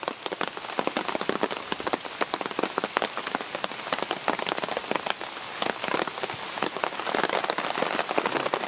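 Steady rain falls outdoors, a dense crackling patter of drops on surfaces that stays moderately quiet and even, with no voices over it.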